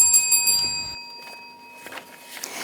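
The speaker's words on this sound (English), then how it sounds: "that bell means that it's the end of section 1" On a school quiz show, a bell rings to mark the end of a section: a bright sustained metallic tone with a rapid clattering onset that fades away, followed by quiet studio room noise.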